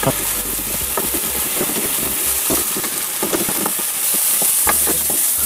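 Ground chicken fries loudly in a pan with a splash of sake, a strong sizzle and steam hiss heard throughout with scattered crackles and stirring scrapes.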